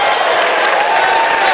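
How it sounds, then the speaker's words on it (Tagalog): A dense, loud crowd roars and applauds without a break at a FlipTop rap battle, the clapping and cheering filling the whole moment. "Kita nyo yung crowd, ang ingay"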